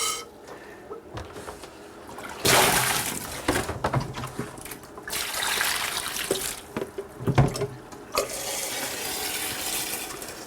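Water runs steadily from a tap while a dye transfer print is washed until the water runs clear, a continuous splashing rush with louder surges and small knocks of handling.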